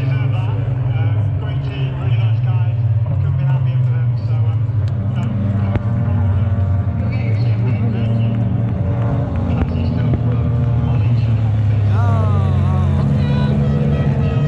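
Porsche race cars passing at Road Atlanta during the Petit Le Mans, with engine drones rising and falling under near, loud spectator chatter.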